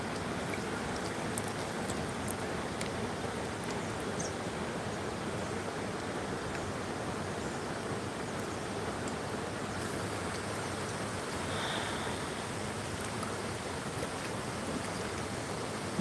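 River water crashes and splashes in a steady, dense roar that holds even and fairly loud throughout, with no voices.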